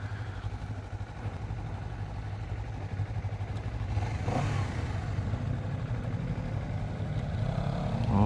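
A 2023 Honda CBR250RR in sport riding mode on a slalom track, its engine note droning steadily and rising as it accelerates, with a brief louder rev midway and continuous wind and road rumble throughout.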